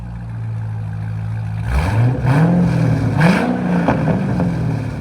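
A loud, straight-piped 7.0L V8 engine of a 2007 Chevy Corvette Z06 idles, then revs hard several times in quick succession, its raw exhaust roaring up and down close by.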